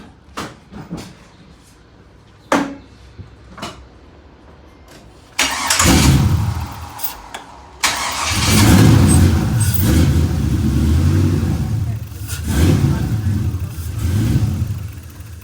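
An LS-swapped Chevrolet Monte Carlo SS cranks and fires up, stumbles, then catches again and settles into loud, throaty revving and idling up close, with a few knocks and clicks beforehand.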